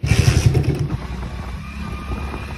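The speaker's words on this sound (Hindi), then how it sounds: "मैं सोच रहा भाई बाइक ही लेकर चले जाऊं।" Close motorcycle engine rumbles with a loud throaty burst at the start, then settles into a steady lower running drone for the rest.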